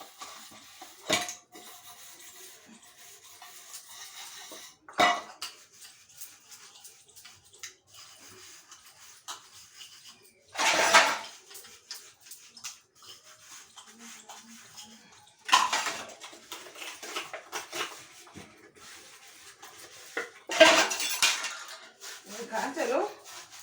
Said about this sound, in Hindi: ज़्यादा बर्तन नहीं है, बस इतने हैं, इनको साफ कर लेते हैं।